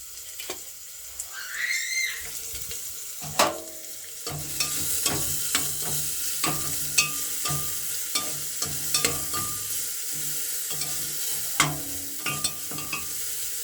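Chopped onion frying in white cooking oil, with a steady sizzle and repeated sharp clinks and scrapes of a spoon stirring in the pan, close and fairly loud throughout.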